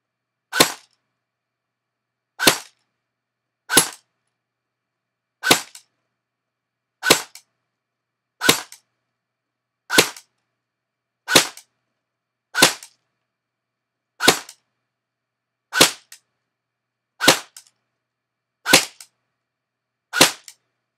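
A custom airsoft AK DMR rifle fires 0.3 BBs in single shots, fourteen sharp cracks spaced about one to two seconds apart over silence, close and loud.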